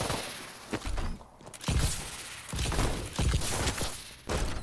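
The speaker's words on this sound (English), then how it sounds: "Somebody shooting at me." Gunfire in the video game Call of Duty: loud, rapid volleys and bursts of shots in several separate waves with brief gaps, heard alone without talk.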